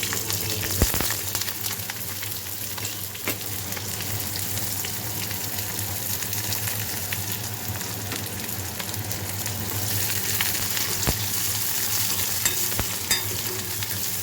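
A dried red chili, green chilies and onion frying in hot oil in a kadai for a brinjal bharta, a loud continuous sizzle that swells toward the end, with a few sharp clinks of the spoon.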